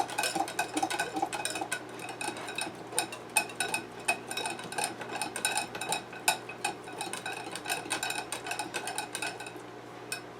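Caesar dressing ingredients are mixed in a bowl, with a utensil clinking and scraping against the bowl in quick, steady, rhythmic taps, close and moderately loud.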